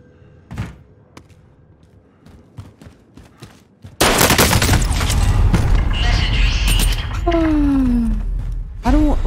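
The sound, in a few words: gunfire in the video game Call of Duty Warzone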